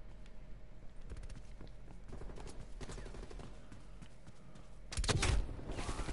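Gunfire in Black Ops Cold War cracks in rapid bursts of sharp shots, moderately loud, with a heavier burst of noise near the end.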